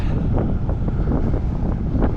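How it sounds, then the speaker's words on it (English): Strong wind buffets the microphone on a cycling ride in Britain in a constant low roar, rough and gusty throughout with no voices. "So windy."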